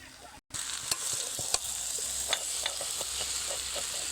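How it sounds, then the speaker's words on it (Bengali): Rice, fish head and ground spices fry together in a pan with potato being added, a steady sizzle broken by scraping stirs and a few sharp clinks of the utensil, close and continuous with no talk. "মশলার সঙ্গে চাল, মাছের মাথা সমস্ত কিছু ভালোভাবে বেশ কয়েক মিনিট ধরে নাড়তে হবে"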